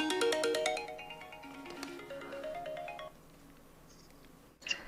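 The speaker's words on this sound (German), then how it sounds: "Was für ein aufdringlicher Klingelton." An intrusive phone ringtone plays loudly as a descending electronic melody of bright tones for about three seconds, then cuts off, followed by quiet room noise and a brief click.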